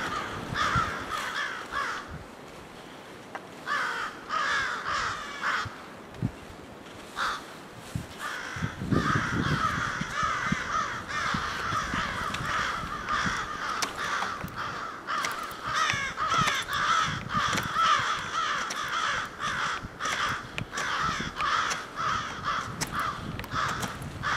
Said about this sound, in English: Crows decided to play right above my head, apparently.